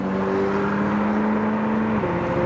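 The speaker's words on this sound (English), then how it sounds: "we have the McLaren 765 LT from within the show" A McLaren 765 LT supercar passes close by with a loud, continuous engine note that holds a steady tone and then shifts pitch near the end, set against a busy roadside background.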